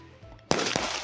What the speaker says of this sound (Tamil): நம்மளும் பட்டாசு ஆரம்பிச்சிடலாம்